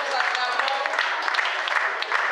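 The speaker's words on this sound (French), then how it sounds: "Nous acclamons" An audience applauds at a foundation's open-day event. Steady, close clapping from many hands runs throughout with a little crowd murmur.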